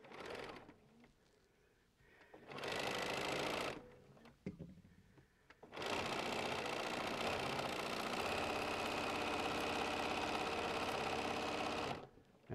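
Sewing machine stitching fabric pieces for a crazy quilt, running in a short burst, then a brief pause with a few clicks, then a long steady whirring run close by.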